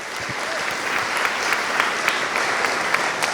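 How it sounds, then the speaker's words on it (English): Sustained applause from a school assembly audience at a Black History Month event, a dense, even wash of many hands clapping throughout, with a few sharper claps standing out. "Let's give another round of applause for everyone who performed today."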